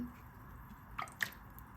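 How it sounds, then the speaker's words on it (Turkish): Yogurt is added to a sauce of egg and oil for a filo börek, heard as two soft, close wet plops in a quiet kitchen with no speech. "Yoğurdumu ilave ediyorum."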